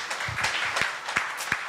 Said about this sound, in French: je vais applaudir mon Dieu sur ça